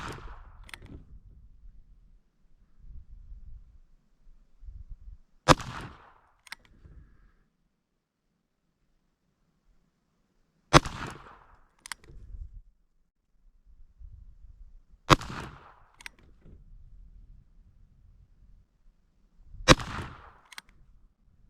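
Ruger Single-Six Convertible revolver fired with .22 standard velocity 40 grain rounds, five sharp separate shots spaced about five seconds apart, each a loud crack with a short tail, and soft handling noises in the quiet gaps between them.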